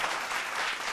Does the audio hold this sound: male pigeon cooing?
no